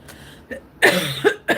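A few sharp coughs, close and loud, in quick succession after a quiet pause.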